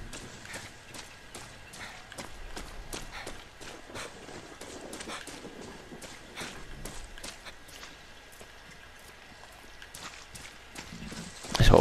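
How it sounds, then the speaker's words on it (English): Horses in the video game Far Cry 6 run past, a steady patter of quiet clip-clop hoofbeats over faint ambience, swelling louder at the very end. "There's horses up here."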